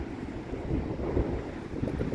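A low, steady roar of Atlantic surf in Ireland mixed with gusty wind buffeting the microphone, continuous and fairly loud, with no voices.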